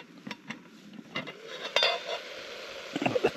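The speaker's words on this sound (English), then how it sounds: "it's just simmering away. It's not burning or anything" Tomatoes, peppers, mushrooms, onions and garlic sizzle gently in a camping pan outdoors, with scattered clinks and scrapes of a utensil stirring against metal, close up and steady.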